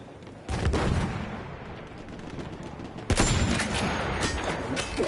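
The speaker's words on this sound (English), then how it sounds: "Enemy machine gun." An enemy machine gun in Dishonored 2 fires in long, fairly loud sustained bursts, with a second sharp burst starting partway through over a rumbling background.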